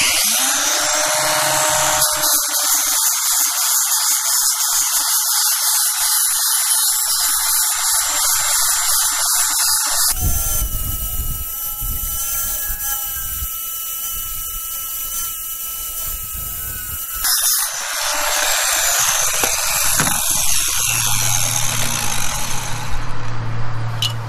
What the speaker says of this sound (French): disque lamelle en grain de 80. Et vous poncez tout doucement la surface pour égaliser